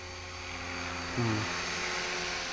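A steady mechanical whine with a buzzing rotor drone from an HK 450GT radio-controlled model helicopter hovering at moderate distance, briefly rising in pitch midway.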